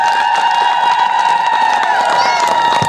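A large crowd at a farmers' gathering (Kisan Mahasammilani) in Khuntgaon, Sundargarh, claps and cheers continuously, a dense, steady wash of applause and voices with shrill tones held above it throughout.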